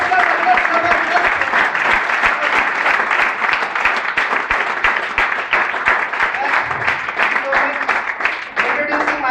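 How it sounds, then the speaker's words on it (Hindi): An audience at an engineering student presentation applauds loudly and steadily for several seconds, a dense wash of many hands clapping that fades near the end. "मिस्टर उमा शंकर जी के लिए जबरदस्त तालियां"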